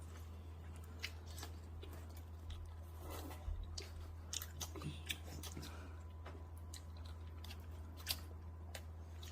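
Close, quiet chewing and crunching of grilled pork belly, with irregular soft bites and clicks over a steady low hum, no talking.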